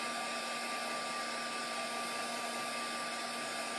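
Steady, loud whoosh of a hair dryer blowing continuously on homemade glimmer mist made with food coloring, an even airflow roar with a fixed motor hum and no talking.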